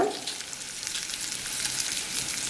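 Amla (Indian gooseberry) chutney ingredients fry in oil in a home kitchen, giving a steady, close sizzle that holds evenly throughout with no voices.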